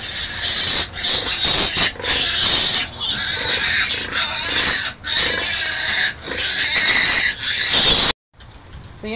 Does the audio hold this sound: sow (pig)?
yes